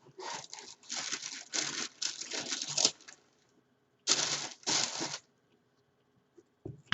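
Tissue paper printed with Nike and Supreme logos crinkles and rustles in short bursts while Supreme x Nike Air Force 1 Low sneakers are unpacked, close and fairly quiet, with pauses in between.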